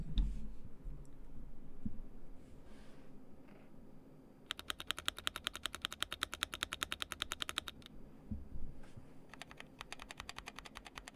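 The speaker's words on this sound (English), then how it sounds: "You want to hear my keyboard?" Mechanical keyboard keys clicking in a fast, steady run of sharp taps, close and alone, with a quieter stretch of scattered clicks before and after the burst.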